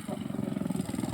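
Motorcycle engine running close by with a throbbing, pulsing low note and slight revving, loud and continuous over the whole moment.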